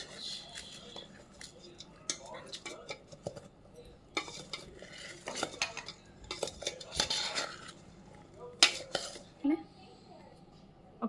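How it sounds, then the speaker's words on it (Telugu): Fenugreek and mustard seeds being stirred in a pan, a string of irregular scraping and clinking strokes of a utensil against metal, close and moderately loud, with someone talking alongside. "ఒకసారి దీన్ని కలుపుదాం"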